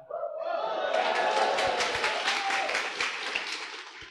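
A seated audience at a talk answers a call to clap with applause that swells quickly, holds as a dense patter of many hands with a few voices and cheers, and then eases off.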